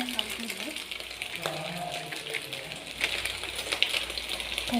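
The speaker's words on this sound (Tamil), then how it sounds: "நல்லா ஃப்ரை ஆகட்டும்." Egg noodles fry in a pan with a soft, continuous sizzle, punctuated by light clinks and scrapes of a utensil against the metal; quiet and close with no talking.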